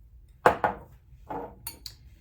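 Coffee grounds tipped into a bowl for a homemade scrub, a few close, light clinks and soft scraping taps of a utensil against the dish, sparse and quiet with gaps between.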